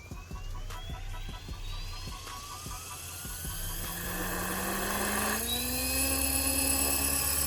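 A Steam AK Pro 420 RC helicopter kit spools up for takeoff: a rising rotor whine climbs steadily in pitch as the throbbing hum grows louder, with faint ticks early on and no voices.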